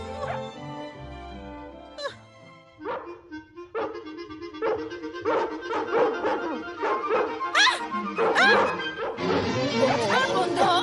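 Dogs bark and yip repeatedly in a dubbed Albanian cartoon of 101 Dalmatians, the barks mixed with music and overlapping animated voices speaking throughout.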